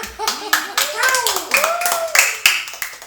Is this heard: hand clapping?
yes